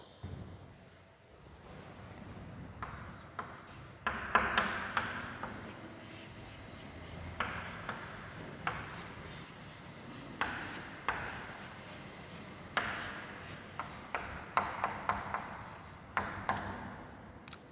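Steady scratching of a pen or marker writing on a board during a statistics lecture, with short repeated strokes and taps over faint room noise, and no talking.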